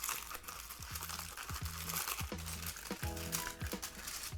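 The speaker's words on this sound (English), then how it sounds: "And now that I got the packaging off the tape" Crinkling plastic packaging being pulled off a sakura-print washi tape roll, a continuous close crackle with brief crunchy bursts throughout, no speech.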